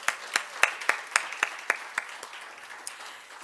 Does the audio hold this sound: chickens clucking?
no